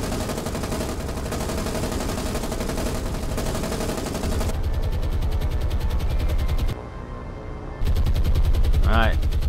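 Naval anti-aircraft guns firing from a ship at sea in War on the Sea, a loud, dense, sustained barrage of rapid overlapping shots that continues for several seconds with a brief drop midway.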